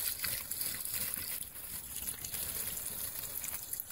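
Water pours and trickles into a vacuum-primed pump for flood irrigation, a steady broadband splashing and sloshing close by for the whole stretch, with much of the water spilling outside rather than going in.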